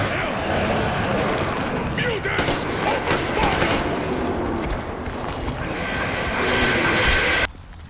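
Gunfire aimed at mutants in the video game Metro Exodus: loud, dense bursts of automatic fire and overlapping shots sustained for several seconds, then stopping abruptly near the end.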